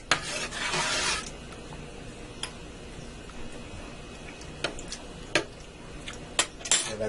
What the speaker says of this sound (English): Stir this around good.